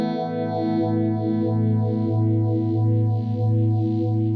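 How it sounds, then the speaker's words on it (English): A clean electric guitar chord rings through a Quad Cortex modeler with a fast phaser, giving a steady sweeping whoosh that cycles about twice a second, loud and alone, with no talking. "We can do kind of our clean kind of phaser sounds."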